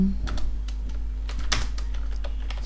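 Someone types PHP code on a computer keyboard: a quick run of crisp, close key clicks over a steady low hum, with no talking.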